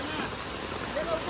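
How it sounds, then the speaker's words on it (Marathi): Heavy rain pours down in a steady dense hiss, loud and continuous throughout the brief moment. "डेंजर पाऊस आहे भाई, डेंजर"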